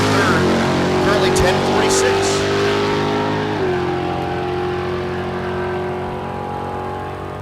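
Naturally aspirated small block drag racing car launching down the strip at Mid America Dragway, a loud rising engine howl with stepped gear-change pitch, fading into the distance under an announcer's commentary.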